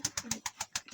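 Soft, rhythmic pigeon cooing in a loft, a quick series of low throaty pulses repeating steadily and faintly from close range, with no voices.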